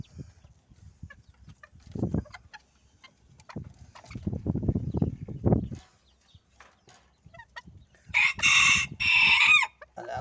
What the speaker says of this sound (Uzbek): Xo'rozlar ham yaxshi mana.